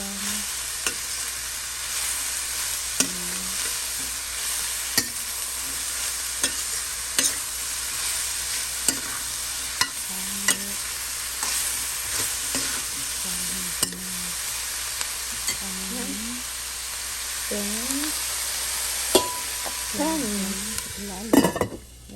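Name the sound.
stirring pinapaitan stew sizzling in a pan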